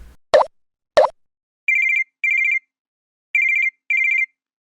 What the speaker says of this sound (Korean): 뭐야, 이 국제전화는?